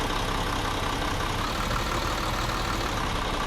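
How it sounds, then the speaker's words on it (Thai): Bus engine idling in the mobile game Bus Simulator Pro Urban Rivals, a steady, even mid-to-low rumble with no variation over a few seconds, alone. "เดี๋ยวเสียงเครื่องยนต์มันจะดังไป เสียงรถ"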